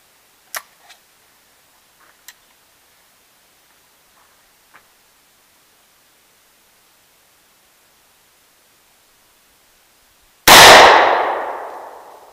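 A single loud, sharp .223 Handi-Rifle shot at old food cans and shaving cream outdoors, arriving after long near-silence broken by a few faint clicks and taps, then ringing off into a fading tail.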